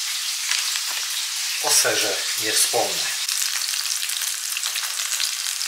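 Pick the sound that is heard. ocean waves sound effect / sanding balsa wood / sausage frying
sausage frying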